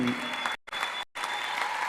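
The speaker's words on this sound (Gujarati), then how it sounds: "જોરદાર તાળી, જોરદાર તાળી" An audience claps loudly at the SMSPB London golden anniversary celebration, a dense, continuous round of applause broken by two brief gaps.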